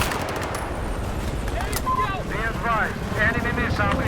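Battlefield 4 Final Stand gameplay brings rapid bursts of automatic gunfire and scattered shots against constant wind and engine noise, with someone talking over the action.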